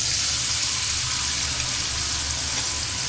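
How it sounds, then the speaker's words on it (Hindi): Chopped onions sizzle in hot oil in a kadai, a loud, even, continuous frying hiss that fills the whole stretch without pause or voices. "उसमें इसको गर्म करने के बाद हम उसमें ये चॉप किया हुआ प्याज डाल देंगे"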